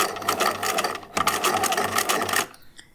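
A sewing machine stitches a long seam on a hand-sewn sailor cap, a loud, close, rapid mechanical whir in bursts that stops near the end, with no voices over it.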